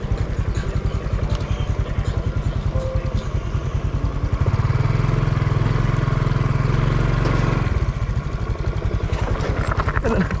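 A motorcycle passes close on a bypass road in Davao, its engine rising loud in the middle of the clip and then fading, over steady traffic noise.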